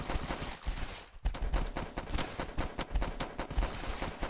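Rapid gunfire from The Last Stand, a Flash zombie shooter, as zombies are shot down: loud repeated shots in quick bursts that run steadily through the whole stretch.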